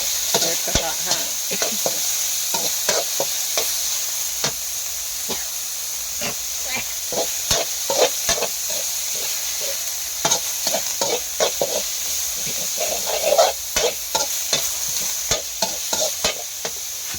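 Pork sizzles steadily as it is stir-fried in a wok for a kale dish, loud and close. Quick, rhythmic spatula scrapes and clacks sound against the pan, with occasional voices underneath.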